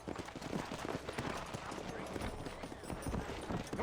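Horse hooves clip-clop in a steady rhythm in the Red Dead Redemption game, sounding near and moderately loud beneath a voice talking over them.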